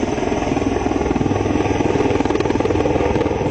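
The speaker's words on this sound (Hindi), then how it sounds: "ये जो है लाइट कॉम्बैट हेलीकॉप्टर" A light combat helicopter flies close by, its rotor making a steady, loud rhythmic thudding over a continuous engine whine, heard alone without talk.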